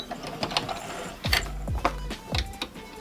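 Domestic sewing machine back stitching a cloth pad, with several short bursts of fast mechanical whirring and needle clatter, close and fairly loud, separated by brief pauses.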